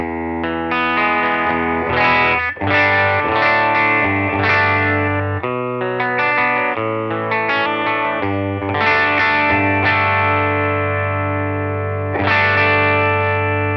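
Clean electric guitar chords ring out through an AC-style amp and a Fender-style amp, full and bright with a slight chorus shimmer, played steadily with a few pauses and no talking.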